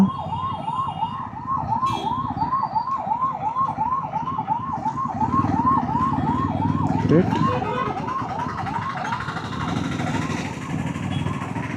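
An ambulance siren yelps in a fast, steady rising-and-falling cycle over the rumble of road traffic, moderately close and continuous throughout.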